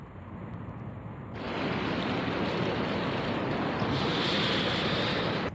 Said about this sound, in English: I like to walk down to the beach.